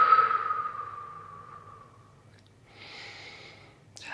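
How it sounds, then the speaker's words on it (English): Slow, gentle breathing during a yoga pose: a long soft exhale fading over about two seconds, a pause, then a quieter breath, close and alone. "A couple of breaths here."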